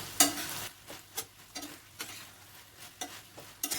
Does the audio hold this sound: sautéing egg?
yes